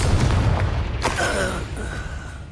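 Magical spell blasts in the game Hogwarts Legacy: a sharp booming burst near the one-second mark over a rumbling low background, followed by a fading shimmer and a faint tonal ring.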